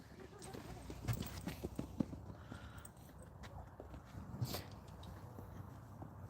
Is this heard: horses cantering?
yes